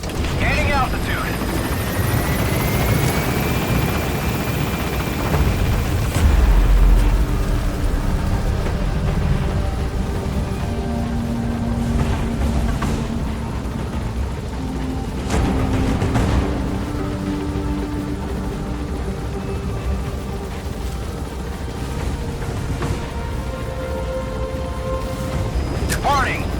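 In the Metal Gear Solid V video game, a helicopter gains altitude with a sustained loud rotor roar and whine that rises, under radio-style voices and occasional mechanical thumps.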